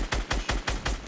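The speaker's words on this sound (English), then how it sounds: "Oh, they're shooting at me." Rapid automatic gunfire in Fortnite aimed at the player, five sharp close bursts in quick steady rhythm over about a second, with no talking.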